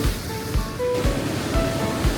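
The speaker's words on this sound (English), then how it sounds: "one of my favourite things about this particular walk was getting the waves in" Sea waves break on the shore at Hartlepool's headland, a steady wash of surf with periodic low surges about every half second, close and fairly loud under wind noise.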